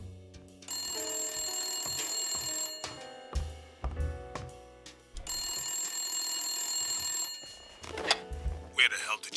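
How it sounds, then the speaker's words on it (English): A telephone rings repeatedly in the Blacksad: Under the Skin detective video game. Two long bell rings sound close and clear, with short pauses and some footsteps or clunks between them. "No, go back, answer the phone now."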